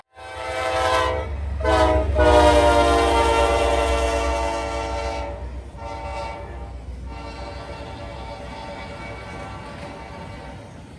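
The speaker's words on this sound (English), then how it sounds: "an extra bare table train, NS299, came flying north" Norfolk Southern NS299, an empty intermodal freight train of well cars, rushes north past close by with a loud, sustained horn blast in several sounding bursts, then a steady rolling rumble of wheels continuing after the horn ends.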